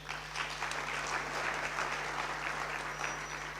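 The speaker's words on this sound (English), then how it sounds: "So a round of applause for our panel." An audience applauds a panel at a public discussion event, a steady wash of many hands clapping throughout with a low electrical hum underneath.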